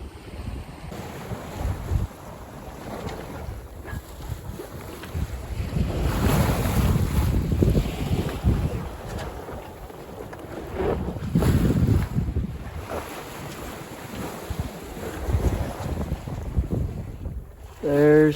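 Wind buffets the microphone aboard a 28ft sailboat at sea in light air, with gusting roar, water sloshing against the hull and a faint steady tone throughout.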